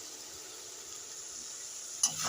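Fish curry masala with Kashmiri chili powder, for a raw-oil silver fish jhal, sizzles softly and steadily in a pan, with a single brief scrape of stirring near the end.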